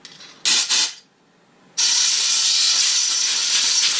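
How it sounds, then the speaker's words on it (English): Short blasts of compressed air hiss against a primer slide from a Hornady AP primer system: two quick close bursts, a pause, then one long sustained loud blowing hiss. "Blow this with some compressed air."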